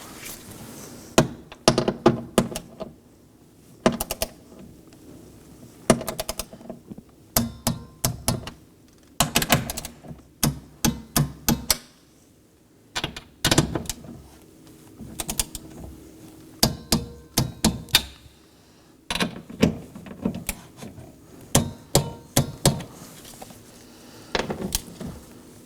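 Bolts being torqued down to 97 inch-pounds on a window regulator inside the door of a 2018–2024 Chevrolet Equinox. Repeated bursts of sharp clicks, close and loud, separated by short quiet gaps.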